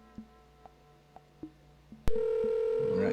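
A telephone in the video game Amazon: Guardians of Eden: a few soft clicks, then a loud, steady electronic ring tone sets in and holds to the end.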